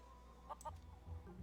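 Feral chickens on Plunder Island clucking in The Curse of Monkey Island adventure game, a few faint short clucks over quiet ambient background noise.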